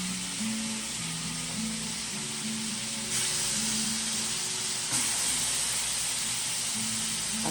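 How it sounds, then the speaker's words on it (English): Lamb steaks pressed down into hot butter in a pan give a loud, continuous, dense sizzle and hiss that carries all the way through, with a low tonal hum and faint musical notes running underneath. "I'm going to take my lamb steaks and press them down in this hot butter."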